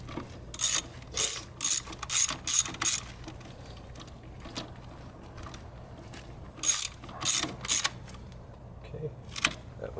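A ratchet tightening a bolt on a 2005 Ford Focus valve cover gives short bursts of rapid metallic clicking in two clusters, close and crisp, separated by a quieter stretch with a few scattered clicks.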